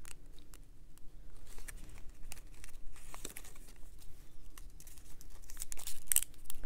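Origami paper is folded and turned inside out by hand, giving soft, close crinkling and small crisp rustles in quiet, irregular bursts with no talking.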